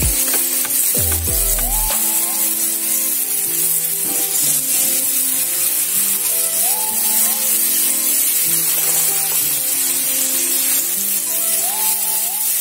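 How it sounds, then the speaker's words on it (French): Steaks sizzling on a hot grill, a constant hiss under a looping musical melody that stays prominent throughout. "Le bruit que vous entendez là derrière, c'est nos viandes qui sont en train d'être grillées, nos steaks."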